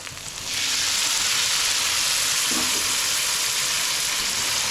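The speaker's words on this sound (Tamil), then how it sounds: "இந்த தக்காளி வந்து நல்லா வதங்கட்டும்" Ground tomatoes hitting hot oil with ginger garlic paste, bursting into a loud, steady sizzle that holds evenly after the initial splash.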